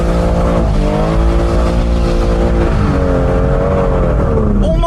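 A BMW M240i with the B58 engine on stock power and new tyres accelerates hard up through the gears, the loud engine note climbing and dropping at each shift while the tyres spin, close and continuous.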